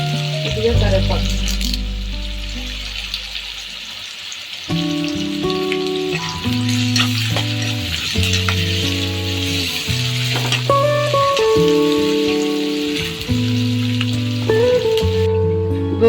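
Curry leaves crackle and sizzle in a pan of hot tempering oil with onions, a loud close frying hiss that runs nearly continuously over the whole stretch, with background music throughout.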